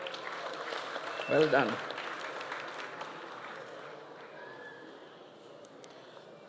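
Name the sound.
audience applause at graduation ceremony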